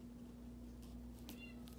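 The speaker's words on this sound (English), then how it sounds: "I got a kitten in the background" A sick kitten indoors gives a brief, faint meow far in the background, almost lost under a steady low hum.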